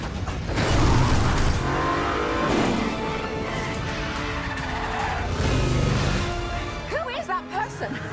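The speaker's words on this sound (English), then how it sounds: "driving and drifting one-handed through the streets of Rome" A car drifts one-handed through the cobblestone streets of Rome, engine roaring and tires squealing in sustained bursts, loud and close, with short sharp squeals near the end and voices heard in the background.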